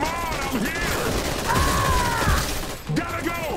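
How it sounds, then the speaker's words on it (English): Rapid machine gun fire in the video game Iron Harvest, dense bursts of gunshots running continuously under in-game voice lines and mechanical clatter. "They have a machine gun."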